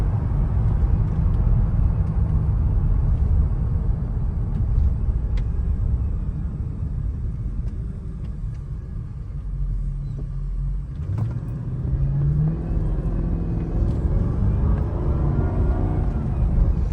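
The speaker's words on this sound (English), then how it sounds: "Open her up a little bit, get her up to speed, see how she feels" A 2004 Mercedes SL500 on Neomax coilovers drives at speed, heard from inside as a continuous low engine and road rumble with tire noise, steady and fairly loud with a brief dip midway.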